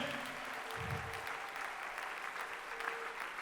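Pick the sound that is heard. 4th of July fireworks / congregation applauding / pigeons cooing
congregation applauding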